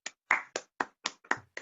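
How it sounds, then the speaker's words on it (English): Hands clap close and alone in an irregular run of about seven sharp, bright claps, each with a quick decay and short gaps between. "Marlo's also clapping."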